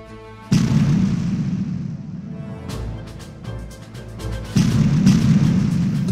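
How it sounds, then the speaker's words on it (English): A Dutch or Belgian artillery battery opens fire at the Battle of Quatre Bras: three heavy, loud booms, each followed by a low rolling rumble that fills the gaps between shots. "As a Dutch or Belgian artillery battery opens fire upon them."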